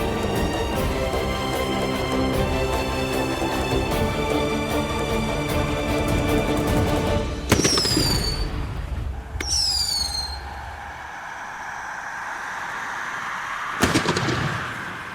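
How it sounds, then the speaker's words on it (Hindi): A flare gun fired in a Hindi TV drama: two rising whistling streaks over background music, then a loud bang after a quieter pause. "फ्लेयर गन चला दी इसने।"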